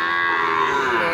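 A Sahiwal bull moos once, loud and close, at a busy cattle market, a single sustained bellow filling the moment.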